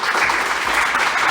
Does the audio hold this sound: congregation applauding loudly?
yes